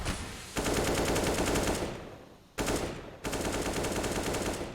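Rapid gunfire in Counter-Strike on the Inferno map, loud close bursts of quick repeated shots broken by short gaps, with no talk over it.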